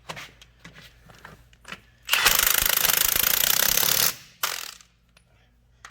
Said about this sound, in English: Now we're going to tighten all these nuts back up.